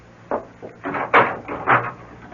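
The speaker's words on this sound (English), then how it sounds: "No, don't bother to come to the door. I'll let myself out." A door in a radio drama is handled and closed, giving a series of hollow wooden knocks and thuds, the loudest near the middle, with no voices over them.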